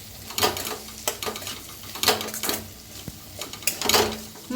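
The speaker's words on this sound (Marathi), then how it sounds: "आता ह्याच्यात टाकूया लाल तिखट, घरचं आपलं लाल तिखट आहे, त्याला भाजून घेऊया." Homemade red chili powder roasting in a pan, with sharp clinks and scrapes of a spoon against the metal at an uneven pace over a light sizzle, close by.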